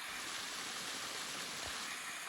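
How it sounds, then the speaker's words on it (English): Running stream water and a small waterfall at a springhouse in Governor Dodge State Park, a steady broadband rush that stays close and even throughout, with no voices. "See the water running."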